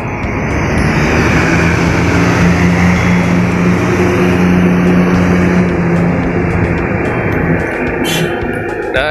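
A Pandawa 87 bus bound for Wonosari pulls away from Bekasi Timur, its engine a loud, continuous close rumble with a steady low drone that fills the whole stretch, no talking.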